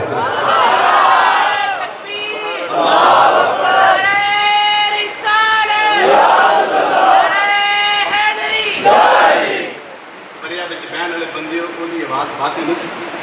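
A crowd at a ninth-of-Muharram religious gathering loudly chants a religious slogan in repeated shouted bursts of many voices, with brief pauses and a quieter stretch near the end.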